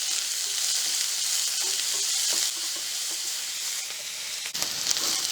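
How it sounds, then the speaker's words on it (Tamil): Onions sautéing in a pan for an okra curry give a steady, close sizzle and hiss that runs unbroken throughout, with faint stirring clinks and no talking. "வெங்காயம் கொஞ்சம் வதங்கட்டும்."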